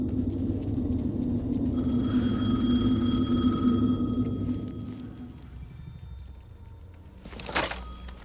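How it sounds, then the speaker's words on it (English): A telephone rings in the Alan Wake 2 video game, its tonal ring sitting over a low, heavy rumble, then a sharp thunk near the end, with no speech. "The phone again."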